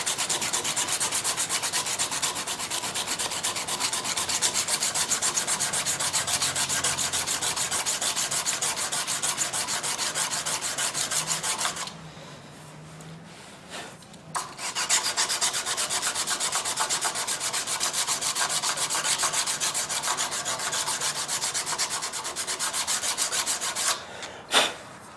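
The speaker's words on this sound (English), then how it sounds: "you're going to keep working with this grit sandpaper until all of those" A knife handle from a flint and steel custom knife kit is sanded by hand with grit sandpaper: close, continuous rhythmic rubbing strokes that pause briefly midway, then resume steadily until the end.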